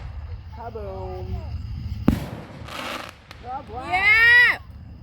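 Fireworks burst in a sharp bang followed by crackling and hissing, mixed in with excited voices and whistling, wavering tones from a mega firework show.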